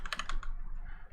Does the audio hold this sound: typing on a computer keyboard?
yes